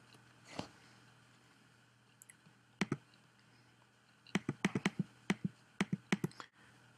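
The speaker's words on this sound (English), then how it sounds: "here we're going to type in budget amount" Keys clatter on a computer keyboard while a budget amount is entered into a database field, first as a few scattered taps and then as a quick burst of crisp clicks toward the end, close and fairly quiet.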